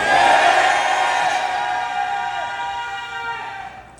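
A large crowd of fans at an outdoor festival concert roars and shouts together in a loud sustained cheer that gradually fades toward the end.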